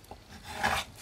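A craft knife dragged along a ruler to trim paper, a short rasping scrape that builds and grows louder toward the end of the cut.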